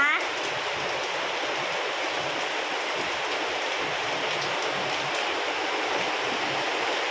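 Heavy rain pours down hard and steady, a dense, continuous hiss of water close by that floods a room and bathroom, with no breaks across the whole stretch.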